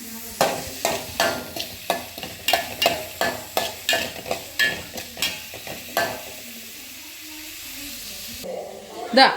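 Onions with salt stirred in a frying pan, a steady sizzle under a rhythmic series of about a dozen scraping spoon strokes, close and fairly loud, ending in a quieter hiss with a final clatter.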